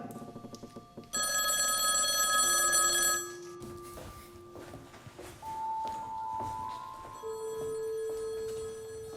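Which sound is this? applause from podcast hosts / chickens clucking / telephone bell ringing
telephone bell ringing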